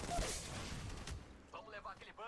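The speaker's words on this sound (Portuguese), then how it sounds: "Eu tô levando tiro." Gunfire bursts rattle in the mobile battle-royale game Apex Legends Mobile, a quick series of shots up front, followed by a player talking over the fading game audio.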